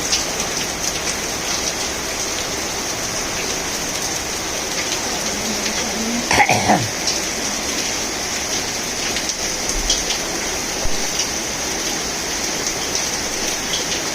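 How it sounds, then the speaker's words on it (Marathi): Heavy monsoon rain pours over Udgir town in a dense, constant roar, with a brief passing rumble partway through. "मुसळधार पाऊस पडत आहे"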